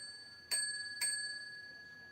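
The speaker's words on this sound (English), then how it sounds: "There's a bell" A small bell struck twice, about half a second apart, each ring bright and clear and ringing on under a faint background hiss with no talking.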